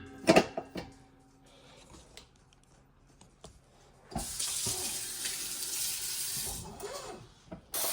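A cooking pot is filled with water from a kitchen tap. A few clunks and knocks come first, then a steady, loud rush of running water fills the second half before cutting off.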